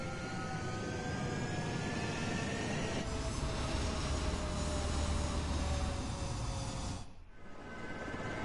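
Fighter jets taking off in the video game Ace Combat: a loud, steady, close jet roar with whining tones that holds for about seven seconds, then briefly drops away before swelling again.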